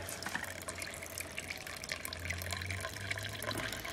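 Water flowing continuously in an aquarium tank holding zebra fish, guppies, tiger barbs and guppy fry, a close, steady splashing trickle with no pauses and no voices.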